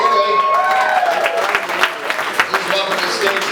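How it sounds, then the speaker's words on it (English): Comedy club audience at an amateur night breaks into applause, a brief burst of clapping and light cheering with voices mixed in. "You gotta start applauding, okay?"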